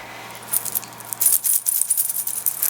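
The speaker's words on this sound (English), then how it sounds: "So we're gonna shuffle with only the chains" Metal chains rattle and clink in irregular bursts while tarot cards are shuffled with them, close and crisp, with a faint low hum underneath.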